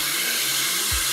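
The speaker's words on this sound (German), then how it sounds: "Der Föhn, der Aufsatz drauf, damit wirklich gezielt an die Strähnen herkommst." A Solis Fast Dry hair dryer with its nozzle attachment runs at full power, giving a steady, loud broadband whoosh of blowing air with a low motor hum underneath that shifts slightly near the end.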